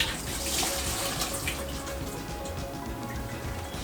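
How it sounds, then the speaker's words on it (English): Soaked apple water drains into a kitchen sink in a continuous, close splashing pour that holds steady throughout with no talking. "I'm gonna take this and go ahead and drain it all over here."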